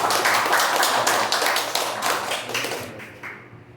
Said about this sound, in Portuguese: palmas pela vida do pastor Eduardo